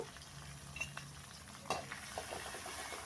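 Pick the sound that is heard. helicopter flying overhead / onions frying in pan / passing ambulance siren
onions frying in pan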